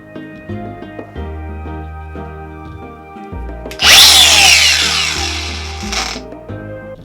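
A Milwaukee angle grinder motor hums steadily, then a loud harsh grinding screech bursts in for about two seconds as a flap wheel sharpens landscaping tool blades, before fading back to the running motor.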